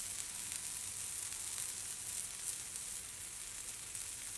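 Two 4-ounce 80-20 beef patties sizzle on a flat-top griddle, a steady, fairly faint high hiss with small pops and no voices.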